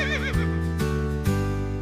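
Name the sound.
horse neighing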